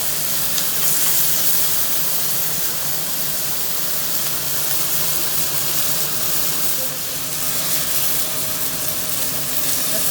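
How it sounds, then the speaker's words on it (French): Onions, aubergines and porcini mushrooms frying in a pan over medium heat, a steady close hiss and sizzle that holds evenly throughout with no talk. "Et on fait revenir le tout pour cuire maintenant les oignons."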